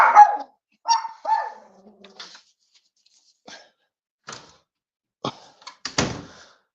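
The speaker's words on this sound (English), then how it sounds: "there's always a dog barking in this house" A dog barks inside a house in several sharp, separate bursts with quiet gaps between them, fairly close and clear, joined near the end by a thud like a door.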